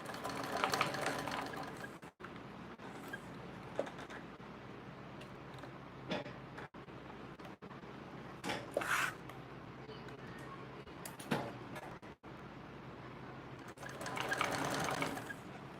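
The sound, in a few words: sewing machine stitching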